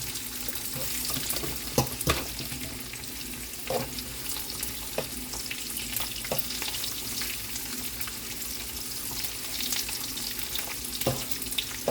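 Dried salted fish (tuyo) fries in a pan with a steady close sizzle and occasional clicks and scrapes of a utensil, no talking.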